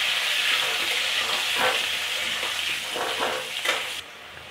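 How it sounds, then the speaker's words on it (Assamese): Potatoes frying in a pan with turmeric powder, a steady, close hissing sizzle with occasional stirring scrapes and crackles throughout, ending with a sudden drop to a softer sizzle. "হলুদ গুঁড়ো দিয়ে অল্প ভেজে নিব।"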